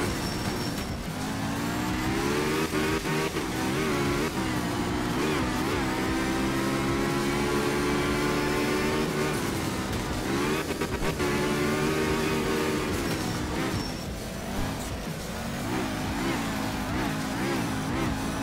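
A rally car engine at full throttle in the video game Art of Rally, on a wet Kenya stage, drones steadily and loudly for the whole stretch, pitch rising and falling with gear changes and revs.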